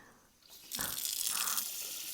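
Cold water from a mountain spring gushes and splashes steadily close by after a brief quieter start, with no voices.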